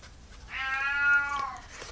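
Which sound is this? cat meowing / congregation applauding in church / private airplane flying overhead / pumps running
cat meowing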